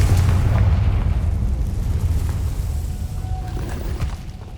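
A Confringo fire spell explodes in the Hogwarts Legacy video game, a loud, deep rumbling boom that fills the whole moment and slowly fades, with no voices.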